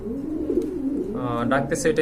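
A racer pigeon coos softly nearby, low throaty rolling notes, while a person talks over the latter half.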